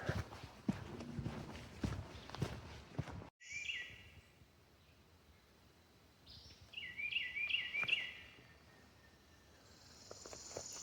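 Birds call intermittently along a quiet forest trail near Opossum Creek in Oconee County, South Carolina, with short chirps clustering in the middle and end over faint ambient hush, after earlier rustling and footsteps.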